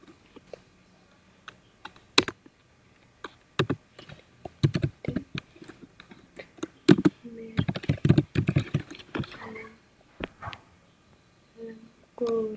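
Code being typed on a computer keyboard gives irregular bursts of close key clicks with pauses between them, and a voice speaks quietly in between.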